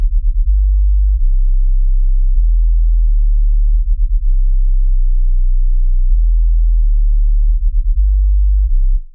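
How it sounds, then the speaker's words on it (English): Deep synthesizer sub bass for an electro house track, playing steady sustained low notes in a repeating pattern with brief gaps, loud and alone with no other instruments or voices. "Bass thick, and the sub bass underneath it all"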